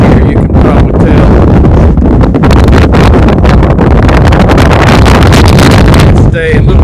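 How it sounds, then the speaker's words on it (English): Strong wind roars across an open Iowa field of large wind turbines in Vail, loud, buffeting rumble that batters the microphone continuously, with brief gusts and a short break near the end. "Of course, there's a lot of wind here, you can probably tell."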